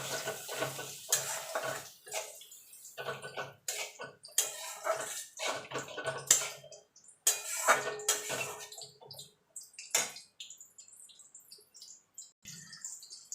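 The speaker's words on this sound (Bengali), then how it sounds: "এবার আমি মশলাটাকে ভালো করে কষিয়ে নেবো" Spice paste for masala bhindi (okra) stirred and sautéed in a pan, with a spoon scraping and clattering against metal in uneven bursts. A faint sizzle and a soft watery bubbling sit underneath. No one talks.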